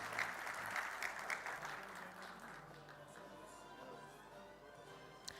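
Audience at an award ceremony applauding to welcome guests, a dense round of clapping that starts strong and gradually tapers off.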